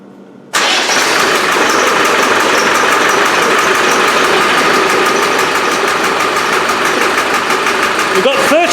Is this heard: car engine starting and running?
yes